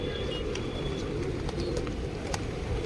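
Pigeons gathered to feed on scattered grain near a shop, giving soft cooing calls over a dense, constant low rumble of surroundings.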